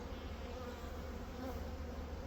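A steady, close buzzing of many honey bees in a hive where a new queen is being introduced hums continuously without a break, with no voices.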